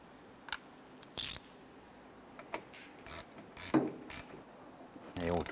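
Metal clicks and short ratcheting bursts come from a wrench tightening the two front strut nuts on a 2007-2012 Nissan Versa, a series of brief, fairly close mechanical crunches with pauses in between.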